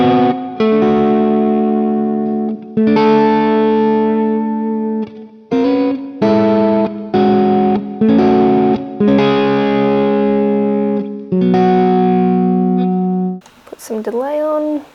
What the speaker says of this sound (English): I'm going to put some reverb on. This is a really nice reverb,